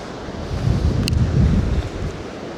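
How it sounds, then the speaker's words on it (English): Wind rumbles against the microphone in low gusts by the sea, with a single faint click partway through. "It's windy."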